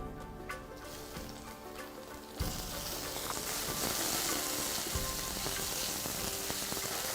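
Shrimp go into a pan of garlic and peperoncino oil, and a soft sizzle jumps to a loud, steady frying hiss, with light stirring scrapes underneath.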